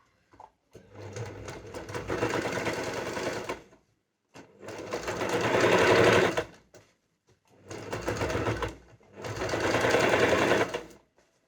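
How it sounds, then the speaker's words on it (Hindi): A sewing machine stitches a kurti neckline in four sustained runs of rapid, whirring, chattering stitches, each lasting a few seconds and separated by short pauses, close by with no talking. "यहाँ पे मशीन को इस प्रॉपर यहाँ पे रखेंगे और स्टिच"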